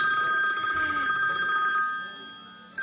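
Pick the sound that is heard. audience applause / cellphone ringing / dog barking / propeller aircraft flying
cellphone ringing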